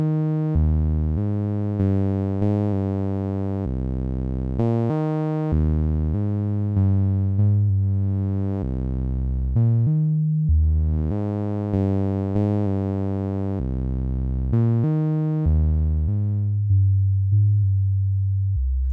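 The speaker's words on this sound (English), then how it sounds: "an output that begins to roughly resemble a rounded pulse wave" An Infrasonic Audio Warp Core oscillator in bend warp mode plays a sequence of loud, buzzy synth notes with a rounded pulse-like tone, stepping through changing pitches in a steady rhythm with brief gaps between some notes.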